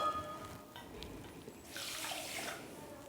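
Water pours into a cooking pot already holding sugar, measured by the bowlful to make syrup for gulab jamun. A steady, splashy rush starts about halfway through and runs to the end over faint background noise.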